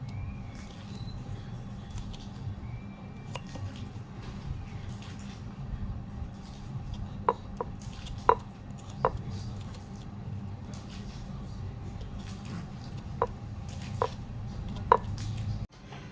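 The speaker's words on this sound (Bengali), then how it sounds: "এবার এটাকে কাঁটা চামচ দিয়ে ফুটো ফুটো করে নেব।" A fork pricks holes in cut papaya pieces, making a few small, sharp taps and clicks spread out over a steady low background hum.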